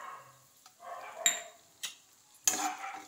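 Cashews and raisins fry in ghee in a kadai with a light, spotty crackle, while a spoon clinks sharply against the pan three times.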